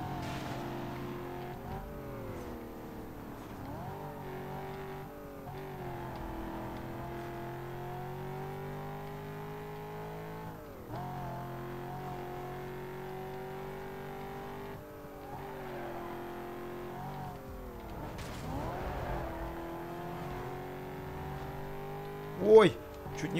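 A Corvette races through sharp turns in Need for Speed Most Wanted, its game engine droning steadily with rising and falling pitch shifts, under someone talking throughout, with a brief loud thump near the end.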